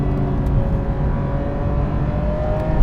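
A Porsche 911 GT3 RS engine drones steadily from inside the car while driving on a mountain road, a continuous low, full-bodied hum with a faint whir and no distinct revving peaks.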